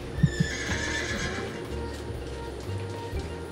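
A horse near a trail in the Shawnee National Forest whinnies, a moderately close neigh early on followed by soft snorts and hoof clops against low outdoor background.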